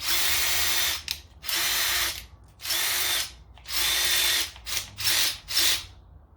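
A Ridgid subcompact cordless drill whirs in seven short bursts of trigger pulls, high-pitched and close, with brief pauses between each spin.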